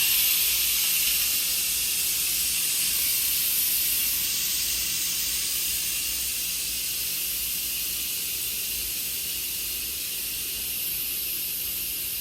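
Steam hisses steadily from the release valve of a pressure cooker holding pumpkin ginger soup, a loud, continuous broadband rush that fades only slightly over about twelve seconds, with no talking.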